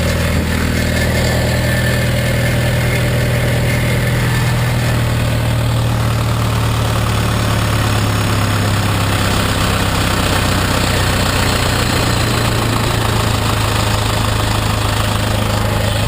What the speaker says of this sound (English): we're going to go back over here to our pump, and we're going to idle that pump down to 800 RPMs.